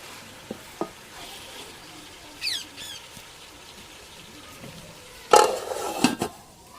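Cabbage fries over low heat in a pan, a faint sizzle punctuated by scattered clicks of a utensil, a couple of scraping stirs early on and a louder burst of scraping and clatter near the end.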